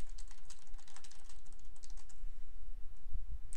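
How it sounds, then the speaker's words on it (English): Quick, steady clacking of computer keyboard keys comes in a rapid burst during a live game-development talk show, then thins out to a few scattered taps. "I just misspelled that typing it quickly."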